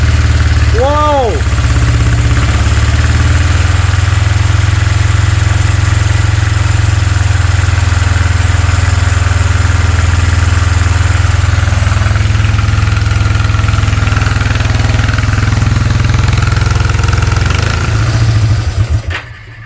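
A classic Honda CB-series motorcycle engine idling on its first test start after restoration, loud and steady with a close, continuous low rumble, while a voice briefly speaks over it.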